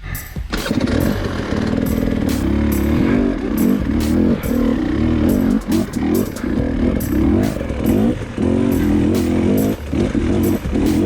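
An enduro motorcycle engine runs loud and steady for the whole stretch with its idle set too low. A rough, uneven chugging throb is broken by brief clattery dips and surges, and nobody speaks.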